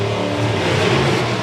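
A nitrous-fed drag racing car launches off the start line at a drag strip, its engine roaring in a loud, dense, unbroken blast for the whole moment, with no voices.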